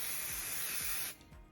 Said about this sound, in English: I'm going to lift up my lovely green fabric and I'm going to give it a spray and stick it down in place.